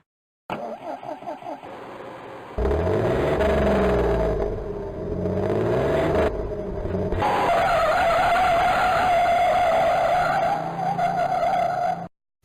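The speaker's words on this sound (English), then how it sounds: "Why did the bus screech?" Tires screech hard and long on a bus as it accelerates, with a loud sustained squeal over a deep engine rumble, broken by a brief gap before another extended skid.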